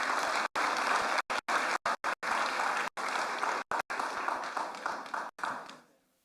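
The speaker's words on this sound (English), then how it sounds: "Please give him a round of applause." An audience at a formal memorial lecture at a central bank applauds in a dense, sustained burst of clapping that fades out at the end.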